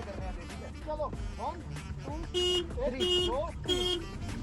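A car horn on a street toots in three short, bright blasts under steady talking, with road traffic noise in the background.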